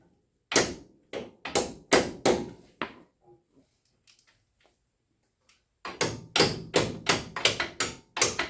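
A hammer taps repeatedly on a pry bar against a bolt during a lift block install on a Toyota 4WD truck, with two bursts of sharp, evenly paced knocks separated by a quiet pause with faint clinks.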